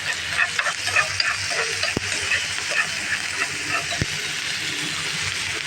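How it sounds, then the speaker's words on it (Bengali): Ginger and garlic sizzle steadily in hot oil in a pan while being stirred, a continuous close frying hiss with a couple of sharp utensil knocks against the pan. "আমার একটু আদা আর রসুন সামান্য দিয়ে দিলাম দিয়ে একটুখানি নড়াচড়া করে নিলাম"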